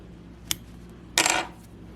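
Scissors snip through crochet yarn on a handmade bag, a quick faint click followed by a brighter, slightly longer metallic cut, close by in a quiet room.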